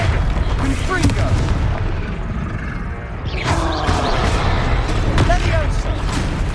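Repeated booming fire-blast spell explosions from Confringo casts in the Hogwarts Legacy video game, loud and dense with crackling bursts and rumble, several impacts over the span amid game effects.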